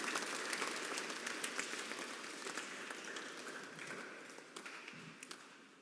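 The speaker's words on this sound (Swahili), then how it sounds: "Hebu tujipigie wote makofi." Audience applause at a Lenten campaign launch gathering after church fundraising totals are announced, a steady dense clapping that fills the room and slowly tapers toward the end.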